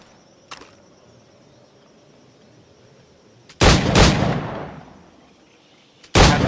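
Firearms go off in Assassin's Creed IV: Black Flag: a faint early crack, then a loud booming shot with a long rolling echo, and another sharp blast at the end.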